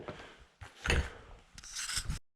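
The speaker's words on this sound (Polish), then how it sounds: "Muszę przewiercić otwór wiertłem i z drugiej strony zaatakować." A hole being drilled with a drill bit during installation of a central vacuum system, giving rough, rasping bursts of bit grinding through material that come in uneven surges, loud and close, with no talk.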